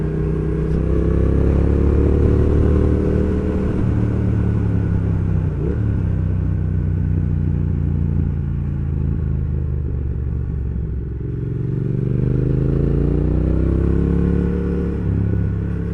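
Triumph Thruxton R motorcycle engine drones steadily and loudly on an open road ride, its note rising and falling with gear changes and throttle, with wind rush throughout and no talk.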